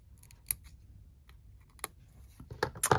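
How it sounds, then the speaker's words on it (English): Tweezer-style craft scissors snipping paper while small storage boxes are made, giving a few sharp, close clicks and snips spread over a quiet background, getting busier toward the end. "These are tweezers and scissors, sort of at the same time."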